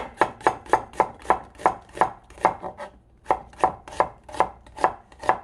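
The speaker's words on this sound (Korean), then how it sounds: "양파 작은 거 한 반 개 정도만 넣어 줄게요 채 썰어 주세요" A knife julienning half a small onion on a cutting board taps out a steady run of sharp, close chops, pausing briefly midway before the rhythm resumes, with no voices.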